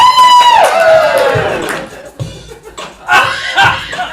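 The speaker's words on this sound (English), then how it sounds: "You guys were cheering." An improv comedy theater audience cheers and laughs, a burst of high shouts and whoops that fades, then scattered chuckles and renewed laughter with a few claps and voices.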